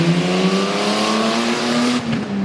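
A tough truck at a Storm Tough Truck Racing event in Brookville, PA, roars loudly through a corner, engine note holding steady with rising harmonics before a brief drop near the end.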